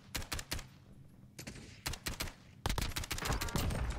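Gunfire in the video game Call of Duty Warzone comes as sharp, loud shots in quick bursts, with a few gaps between volleys and then a denser stretch of rapid fire near the end.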